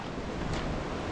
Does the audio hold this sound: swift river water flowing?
yes